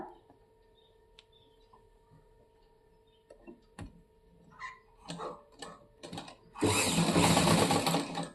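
A sewing machine stitching a cross belt onto a blouse: quiet taps and small handling noises give way to short bursts, then a loud continuous run of rapid stitching up close.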